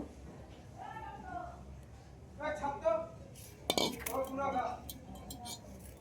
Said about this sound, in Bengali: অল্প অল্প করে দুধ দিতে হবে, মিক্স করতে হবে।